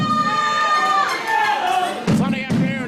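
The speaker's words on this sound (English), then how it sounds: "In front of a loud Morarula crowd." A loud crowd cheers and shouts at a Mexican lucha libre wrestling main event, a six-man tag team match on a Sunday afternoon, with dense sustained roaring, a voice cutting through, and thudding bursts near the end.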